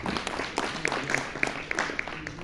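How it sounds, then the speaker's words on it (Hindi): Applause from an audience at a book release function, a steady wash of many hands clapping with scattered sharper claps throughout, fairly close and sustained. "और आप सबकी तालियों के दरमियान में डॉक्टर बलजीत रैना साहब को स्टेज पर दावत देता हूं"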